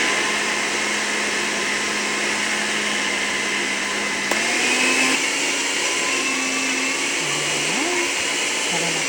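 A kitchen blender whirring through Haitian epis green seasoning with vinegar, oil and salt, a loud steady motor hum that shifts pitch midway and dips as the load changes.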